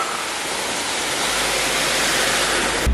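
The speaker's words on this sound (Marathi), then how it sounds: "हे बघा धबधबे धबधबे धबधबे" A monsoon waterfall in Ambenali Ghat roars as a steady, loud, unbroken rush of falling water, with no voices.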